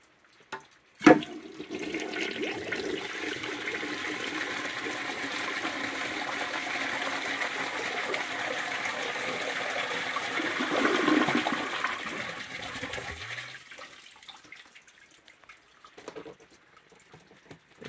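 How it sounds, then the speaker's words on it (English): A 1958 Briggs Ambassador toilet flushes with a sharp onset and a long, steady rush of water for about twelve seconds, then drops away to a quieter trickle of refilling. "Pretty decent flush on that."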